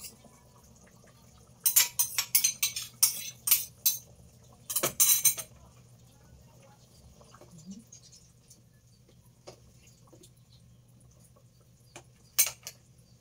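A pot of pork tocino and black beans is covered with metallic clatters and clinks of the lid, in a cluster of sharp bursts followed by a quieter stretch and one final clank.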